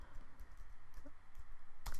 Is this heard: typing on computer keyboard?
yes